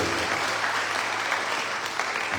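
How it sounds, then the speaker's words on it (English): Brief, steady applause from a morning audience at a Sharad Navaratri session, a moderately loud continuous patter of clapping with no voices over it. "I'd like you to give them a lovely round of applause this morning"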